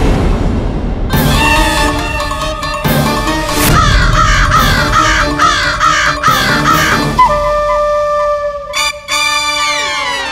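A crow caws loudly and close in a Tenali Rama television comedy set in a royal court, several harsh, drawn-out calls in a row followed by a trailing final cry.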